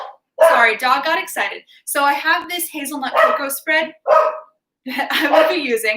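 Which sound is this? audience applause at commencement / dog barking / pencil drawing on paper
dog barking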